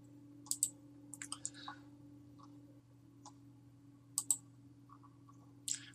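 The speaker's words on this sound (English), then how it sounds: "I'm just clicking on the little arrow that's over on the right hand side" A computer mouse is clicked during a Divi theme eCommerce tutorial: a few sharp, isolated clicks in pairs and singles, close and quiet over a steady low electrical hum, with no speech.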